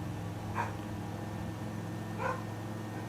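A pet dog barks twice somewhere in a home, two short faint yips spaced over a second apart, heard alone over a steady low hum of room or computer noise.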